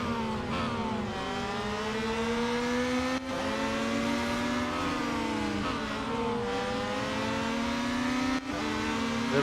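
Race cars in the Real Racing 3 mobile game produce a loud, continuous engine whine that climbs and dips with gear changes, with a brief break at each shift and no voices over it.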